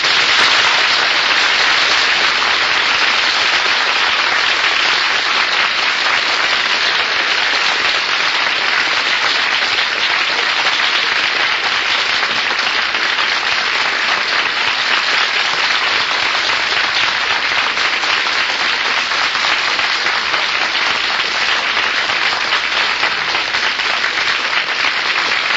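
A large studio audience at a 1955 radio quiz show breaks into sustained, dense applause that holds at an even, loud level throughout, with no voices rising above the clapping.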